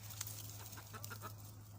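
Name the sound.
chickens clucking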